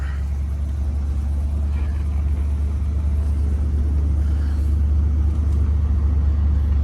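A 1972 Buick Centurion with a 455 engine runs with a steady, loud, deep rumble that holds evenly throughout, with no talking over it.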